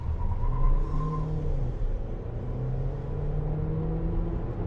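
A Haval H6 PHEV plug-in hybrid SUV accelerates hard from a standstill, a steady loud rumbling drone of engine and road noise rising in pitch, heard from close by with no talk.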